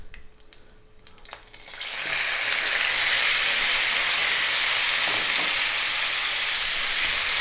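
Lamb meat dropped into hot spiced oil over high heat bursts into a loud, steady sizzle and hiss that starts suddenly and keeps going evenly.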